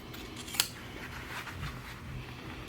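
Scissors trim a fabric seam allowance while sewing a French seam, making one crisp close snip followed by faint cloth rustling at a low level.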